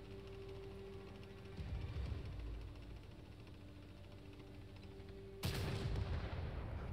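Distant artillery and tank guns firing in a World of Tanks modern armor console match: low muffled booms over a steady engine hum, with one sharper crack near the end.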